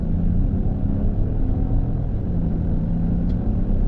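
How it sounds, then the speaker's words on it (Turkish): A Peugeot 3008's engine runs steadily inside the moving car, a continuous low rumble of road and motor noise at even loudness that never swells into a clear full-throttle surge. "Hadi bir dip gaz yapalım."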